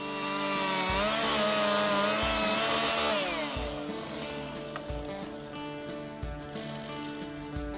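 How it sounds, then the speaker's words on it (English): A chainsaw runs at high, steady revs as it bores into the center of a tree trunk during felling in a dense stand, loud and close throughout, its pitch dipping and wavering as the bar cuts into the wood. "bore out the center of the tree and make the bore cut slightly wider than the width of the chainsaw"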